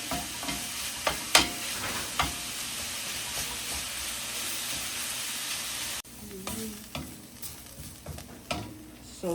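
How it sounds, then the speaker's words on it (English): Ground meat browns in a hot pan for pastelón cups, a continuous close sizzle broken by sharp scraping stirs and clacks of a utensil, with a brief dip midway; no one speaks. "So it's still browning."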